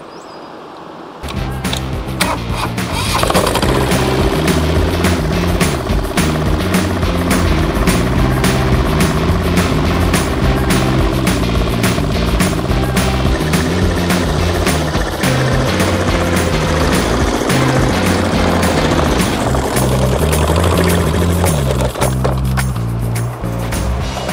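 A Caterpillar diesel engine running on mustard oil chugs loudly and steadily with a rapid, even knocking rhythm, close by, holding for most of the stretch before easing off toward the end.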